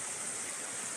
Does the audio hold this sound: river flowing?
yes